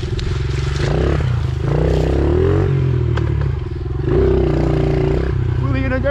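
A Honda CRF70 dirt bike revs hard through a wheelie on a dirt trail, its small engine loud and close, rising and falling in pitch with clattery mechanical noise throughout.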